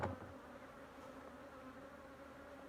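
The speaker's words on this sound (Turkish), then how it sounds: "Arı coştu." A dense, steady drone of many agitated honeybees buzzing close by during a hive check after honey harvest, continuous, with a brief knock at the start.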